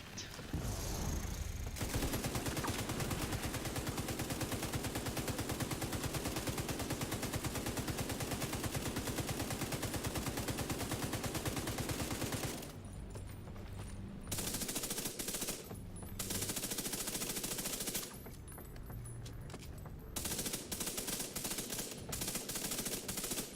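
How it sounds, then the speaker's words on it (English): An exotic LMG in The Division 2 video game fires in long continuous bursts of rapid gunfire, then in shorter bursts with brief pauses, at a low overall level. "I'm sitting here using this exotic LMG that's supposed to be making me feel like cool"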